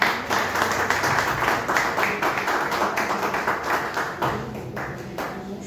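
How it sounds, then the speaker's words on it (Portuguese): Church congregation applauding during a sermon, a dense, lively burst of many hands clapping with a loose rhythm, loud throughout and tapering slightly toward the close. "As palmas ao Senhor"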